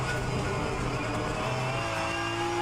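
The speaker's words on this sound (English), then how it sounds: "car engine noise might be a little bit loud" A Porsche 911 GT3 Cup car in the rFactor 2 racing game drones at a steady, moderately loud engine pitch, with no one talking over it.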